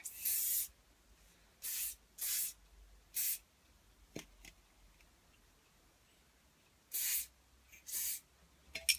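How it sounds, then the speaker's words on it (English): Short hissing bursts of hairspray from an aerosol can, five or six separate sprays of about half a second each, close and fairly loud, with quiet gaps and a faint tap between them. "the final thing I'm going to obviously put on is a bit of hairspray"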